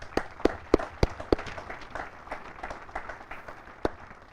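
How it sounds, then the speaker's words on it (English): Scattered claps from an audience at a military change of command ceremony, a few sharp distinct hand claps over a thin murmur of applause, moderately near. "please give the Cadet Command staff and these elements a round of applause"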